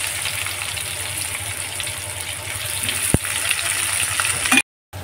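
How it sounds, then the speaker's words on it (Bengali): Chopped onions frying in oil in a pan after whole garam masala has been tempered in the leftover potato-frying oil, for a Bengali chicken kosha; a steady close sizzle with one brief click, cutting off just before the end. "ভালো করে পেঁয়াজটা লাল লাল করে আমি ভেজে নেব।"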